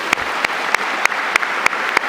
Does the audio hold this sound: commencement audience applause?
yes